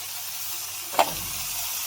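Cut brinjal pieces fry in a pan with a soft, steady sizzle and hiss, interrupted once midway by a brief scrape or clatter before the gentle frying continues.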